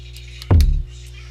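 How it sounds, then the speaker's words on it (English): A hard kick drum sample from FL Studio 9 fires once, a single loud, punchy low-end thump with a short decay, heard alone. "I'm going to add a hard kick."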